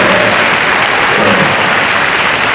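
Loud, dense applause fills a large hall at a Korean world mission conference, many hands clapping together in a continuous, unbroken roar.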